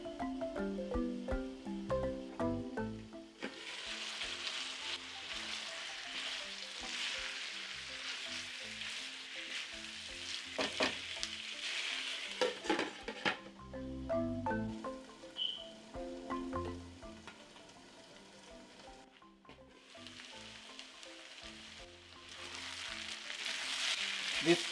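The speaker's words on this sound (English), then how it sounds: "Cover the pan and cook the potatoes until they slightly start softening." Spiced potatoes with onions, ginger and garlic cook in a covered pan, a steady moderate sizzle with occasional stirring clatter and louder bursts of frying.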